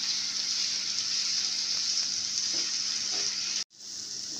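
Chopped carrots fry in a pan with a steady, close hiss and crackle that continues alone. The sizzle cuts out sharply near the end, then quickly returns.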